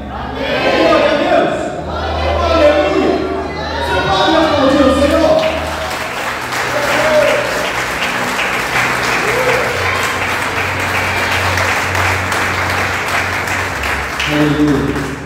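A church congregation cheers and shouts at a worship service, voices loud and overlapping at first, then settling into a steady wash of applause that carries on at full strength to the end.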